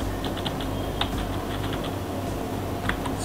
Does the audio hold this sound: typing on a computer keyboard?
yes